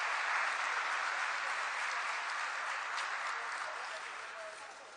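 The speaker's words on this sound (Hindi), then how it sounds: "जोरदार तालियों के द्वारा हम बहुत दिल से स्वागत करते हैं।" At an inauguration ceremony for a new campus and wisdom park, an audience gives a warm round of applause: a broad, steady roar of clapping that gradually fades toward the end, heard from a distance.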